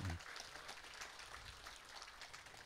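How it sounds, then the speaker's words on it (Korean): Audience applause at a political gathering, a faint, distant wash of clapping from a crowd that continues evenly throughout. "다시 한번 뜨거운 박수 부탁드립니다"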